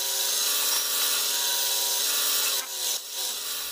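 A drill whines steadily as a long 3/8 inch bit bores into wood, a continuous high grinding tone that dips and shifts near the end.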